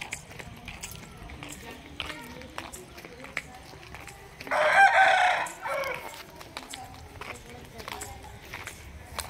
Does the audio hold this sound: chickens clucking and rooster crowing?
yes